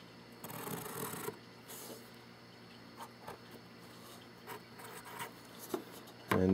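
Pencil scratching across paper while a straight ray is drawn during a compass angle construction, with faint short rubbing strokes and light taps, close and quiet, with no voice over it.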